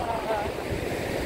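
Sea waves wash in at Lingayen beach, a steady, moderately loud surf rush mixed with wind noise, with no talking over it.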